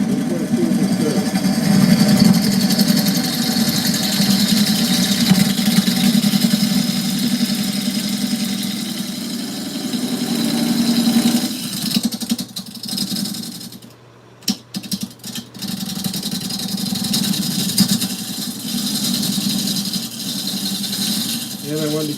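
A wood lathe turns an oak burl as a gouge cuts it, giving a loud, steady motor drone with rough cutting noise that briefly stops partway through, then resumes.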